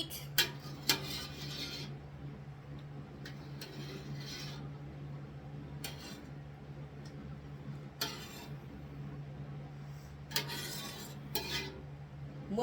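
Cheddar curds stirred in a pot of warm whey on a farmhouse stove, giving sparse metallic clinks and scrapes of a utensil against the pot over a steady low hum.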